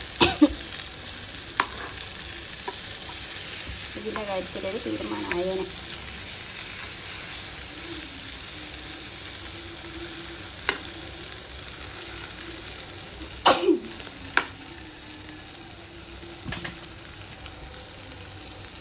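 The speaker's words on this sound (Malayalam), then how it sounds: "ഞാനിവിടെ മീൻ വറക്കാൻ വെച്ചിട്ടുണ്ടായിരുന്നു" Fish frying in a home kitchen pan gives a continuous low sizzle across the whole stretch, broken by occasional clatters and clinks, while someone talks intermittently over it.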